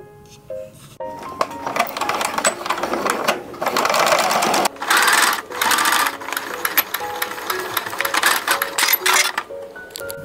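A sewing machine runs close and loud, stitching a dress seam at a 0.5 cm allowance in bursts of rapid mechanical whirring with short pauses between runs.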